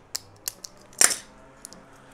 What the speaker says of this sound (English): it's covered with shrink wrap, so I'm going to have to cut the shrink wrap off that.